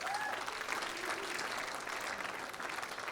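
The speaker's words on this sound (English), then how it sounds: "Can we have a round of applause?" Continuous applause from a crowd at a wedding reception, steady and moderately loud throughout, with no pauses.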